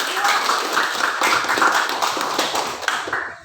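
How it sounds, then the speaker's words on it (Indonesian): A small group of students claps in a classroom for a few seconds in quick, uneven rhythm, close by, fading out at the end. "tepuk tangan dulu untuk kelompok 2"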